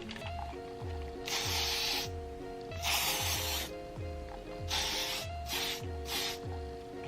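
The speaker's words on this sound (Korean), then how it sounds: "헤어스프레이를 사용해서 머리를 고정시켜 줄게요." Hair spray hisses onto styled shoulder-length hair in several bursts of varying length, close to the mic, over a steady mechanical hum with a repeating pulse.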